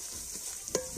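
Ground garam masala being stirred and fried in a hot karahi pan, a soft continuous sizzle with faint scraping and one brief clink of the spoon near the end, close and fairly quiet.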